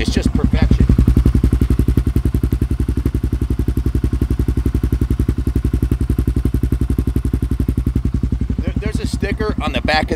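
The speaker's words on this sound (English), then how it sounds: "Listen to the exhaust note with this thing. It's just perfection." Steady, rapid thumping exhaust note from a 2008 Kawasaki KLR650 single-cylinder motorcycle held at an even idle close by, with brief voices near the end.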